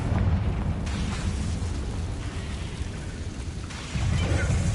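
Confringo blasting spell in Hogwarts Legacy on PS5: a dense, rumbling explosive roar fills the whole stretch, with a heavier low boom swelling near the end, loud and continuous.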